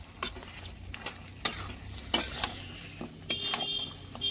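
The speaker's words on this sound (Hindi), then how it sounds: "मटन को मसाला के साथ में भी बढ़िया से भूनना पड़ेगा भाई" Mutton being stir-fried with masala in a pot, heard as intermittent scraping and clinking of a utensil against the pan with a soft sizzle underneath, fairly quiet and close.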